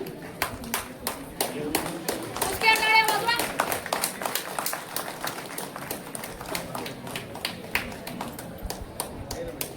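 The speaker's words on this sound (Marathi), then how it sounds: "उसक्या टाळ्या वाजवा." An audience at a school alumni gathering claps in scattered, uneven bursts of sharp hand claps, some close, while people talk over and around them.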